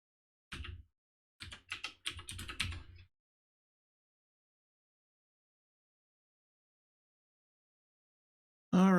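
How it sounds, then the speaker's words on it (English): A password typed on a computer keyboard: a few close, crisp key clicks, then a quick burst of rapid taps, followed by silence and a louder thump at the very end. "Enter our password again."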